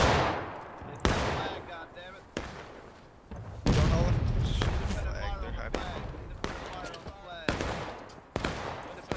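Musket volleys in the Civil War game War of Rights: repeated loud, sharp gunshot cracks at irregular intervals, some overlapping into ragged volleys, each with a rolling echoing tail, amid shouted commands.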